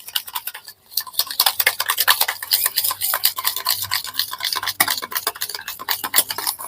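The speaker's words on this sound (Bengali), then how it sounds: "দই ফেটানো হয়ে গেছে খুব ভালো মতন ফেটে নিয়েছি" Sour yogurt (curd) whisked smooth in a bowl, a steady run of fast scraping, clinking strokes close up, with no talk.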